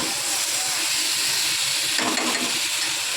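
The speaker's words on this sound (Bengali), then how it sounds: "এখন এবার জল ঢেলে দেবো" Water splashing into a hot pan while cooking fish curry sends up a sudden loud sizzling hiss of steam about two seconds in, over a steady background of kitchen noise.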